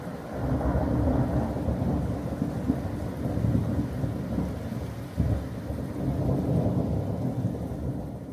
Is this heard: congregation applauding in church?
no